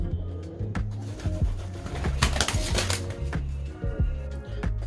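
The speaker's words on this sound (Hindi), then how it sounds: "अभी कबूतर की आवाज़ सी तो आ रही है कुछ" Pigeons coo and flutter nearby, soft fluttery rustling and cooing repeating over a low steady rumble.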